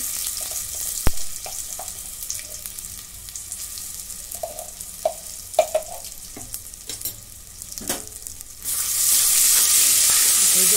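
Ginger garlic paste frying in a pan with cumin and caraway seeds for masala rice, with soft crackling and scattered stirring clicks that swell into a loud, steady sizzle near the end.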